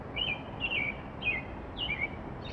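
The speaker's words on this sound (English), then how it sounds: "I believe it is a robin." A robin sings at dusk in the Pacific Northwest, giving four short, bright chirping phrases at a steady, unhurried pace. The song is faint and set against a soft, constant background hiss.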